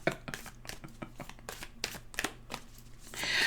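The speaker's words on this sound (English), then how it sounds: "They kind of needed a little shuffle there, huh?" Tarot cards being shuffled by hand, a run of crisp riffling bursts and soft slaps in an uneven rhythm, close and moderately loud, ending in a longer continuous rustling swell.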